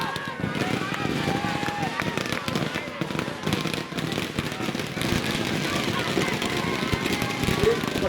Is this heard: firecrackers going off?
yes